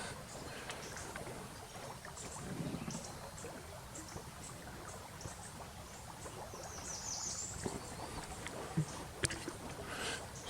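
A canoe glides along the Little Manistee River, giving faint, soft water and paddle sounds over a quiet outdoor background with light insect hum.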